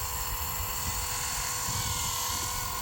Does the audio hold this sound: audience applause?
no